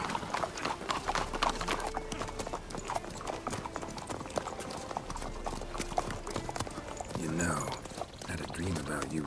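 Horses clip-clop steadily in the video game The Witcher 3, with close rhythmic hoofbeats running under background game sound and voices.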